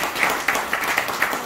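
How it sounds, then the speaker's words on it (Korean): Brief burst of audience clapping at a Saturday political lecture, scattered claps over a murmur of crowd voices, lasting only a moment. "박수"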